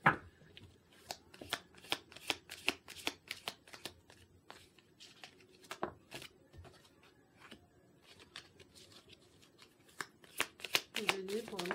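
Tarot cards shuffled by hand in rapid, crisp riffling bursts, close and fairly loud, with a voice talking underneath throughout.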